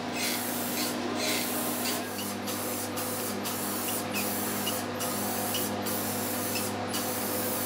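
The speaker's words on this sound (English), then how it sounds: "the spray paint can is kind of hard to use." Aerosol spray paint can hissing in repeated short bursts onto parts of a 1956 Western Auto Wizard Rol Aire fan during restoration, about eight bursts over a steady background hum, fairly close, no talk.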